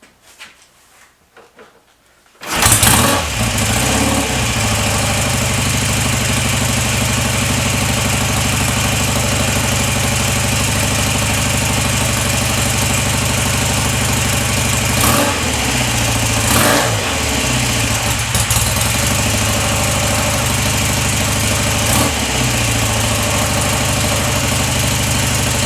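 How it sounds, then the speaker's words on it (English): An Indian Trailblazer motorcycle engine is cranked and catches after a short pause, then settles into a loud, steady idle with a couple of brief throttle blips, with no voices over it. "Now it starts and it has a tick over, or an idle as I would say here"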